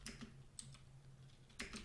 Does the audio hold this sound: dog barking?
no